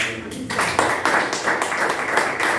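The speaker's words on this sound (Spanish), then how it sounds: "Llévale un aplauso a Él" Congregation applause at a church gathering, a short burst of clapping from a small crowd that starts after a moment of talk and continues steadily at close range.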